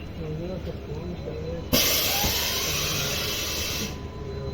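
The Panchaganga Express draws into Mulki railway station. Low rumble and murmuring voices are cut by a sudden loud, steady hiss that holds for about two seconds, then drops back to the lower rumble of the halted train.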